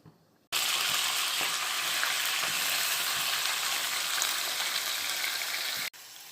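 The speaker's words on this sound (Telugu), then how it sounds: "కడాయికి పెట్టుకున్న చికెన్ వేసేసుకుందాం" Chicken goes into a hot kadai and a loud, dense frying hiss erupts at once, holding steady and close for about five seconds before cutting off to a quieter sizzle, with no voices.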